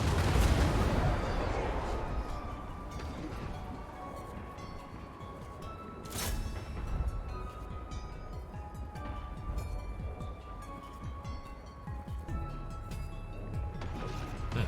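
Artillery fire in a Total War Warhammer battle, Tomb Kings against Mortal Empires forces: a heavy opening blast, then a sharp crack near the middle amid continuous distant thuds, clatter and battle din, faint and cluttered throughout.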